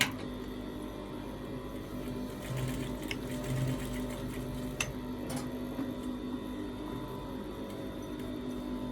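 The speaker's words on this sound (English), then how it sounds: "then top stitch just to hold the single welt pocket in place" A sewing machine top stitches a single welt pocket on the back of a pair of trousers, running with a steady close mechanical hum and a fine rapid ticking throughout, with a few soft clicks.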